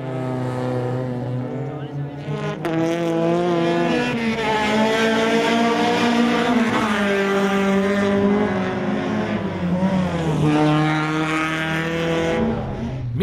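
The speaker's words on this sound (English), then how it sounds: "Monge was driving fast and gaining ground, hunting down Lopez in his quest for the podium" Race cars roar at speed around the Circuit Andorra Pas de la Casa ice track in G Series ice racing, a loud continuous engine drone with shifting, rising and falling pitch throughout, with commentary talking over it.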